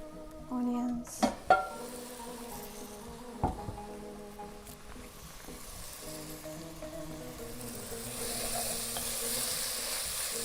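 Onions frying in a pan with a soft, steady sizzle while a utensil clinks and scrapes against the pan a few times early on, fairly quiet and close, with no talk.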